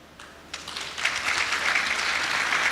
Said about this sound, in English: I would like you to clap your hands to welcome those that are coming from outside OR Tambo.